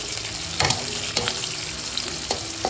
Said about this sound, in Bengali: দিচ্ছি সামান্যখানি কুচি করে রাখা পেঁয়াজ, দিচ্ছি তেজপাতা।